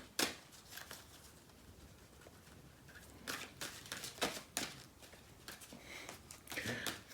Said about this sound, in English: Find big cards a little bit tricky to shuffle.